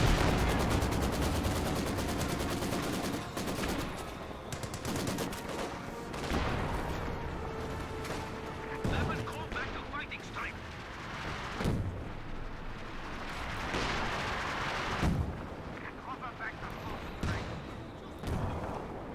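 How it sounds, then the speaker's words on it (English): Maxim machine gun fire rattles through a Company of Heroes 2 battle as a crew suppresses infantry squads, with steady bursts of gunfire and booming explosions over a continuous mix of combat noise while a commentator talks over it. "Maxim trying to suppress these squads."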